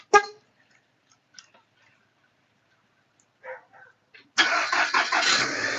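After a snowfall, a car's engine cranks in a few short bursts separated by silence, then catches and settles into a steady, close running roar.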